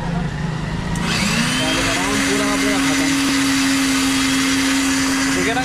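A grain-grinding mill machine runs loudly and steadily at a flour mill, its motor whine rising to a sustained hum partway through, with a person talking over the noise.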